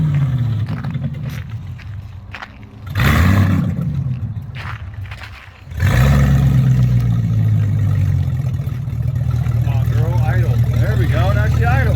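A drift car's engine, freshly repaired, settles into a steady, close, rumbling idle after a brief rev-like surge, with people talking over it.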